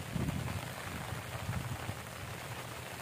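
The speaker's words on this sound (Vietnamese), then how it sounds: "mưa nữa rồi" Rain falling outdoors during a fishing trip for climbing perch in a rainstorm, a steady soft patter of drops on surfaces, fairly quiet and continuous with no voices.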